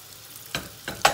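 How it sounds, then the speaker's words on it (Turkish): Chopped garlic pieces hit melting butter in a pan over high heat, giving a steady soft sizzle with two or three sharper crackling bursts as they drop in, close and with no voices. "Yağ erirken de doğradığımız sarımsakları da şöyle 3-5 parça içine atıyorum."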